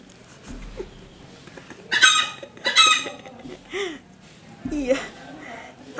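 A chicken makes a few sharp squawks and clucks close by, two strong bursts in the middle and a softer one later, among quiet background noise and what sounds like a low voice.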